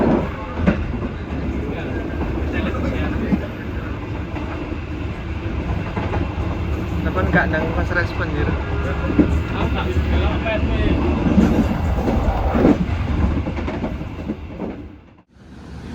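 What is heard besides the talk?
commuter line train riding on rails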